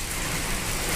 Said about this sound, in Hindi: बरसात में भी लोग चल रहे हैं